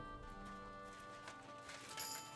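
Horse hooves clip-clop steadily in the medieval open-world game Kingdom Come: Deliverance 2, a continuous trotting rhythm over a busy game soundscape with a faint whinny late on, no talk.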